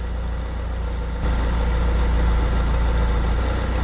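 A Ford E-series van engine idles steadily with a low, constant hum, its level rising slightly partway through and holding even; no talking.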